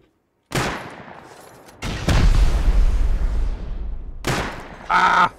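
Gunfire in the Rust survival game during a zombie-server raid: loud bursts of rapid shots, with a short opening volley, a longer sustained burst and a final close, harsh report, no voices.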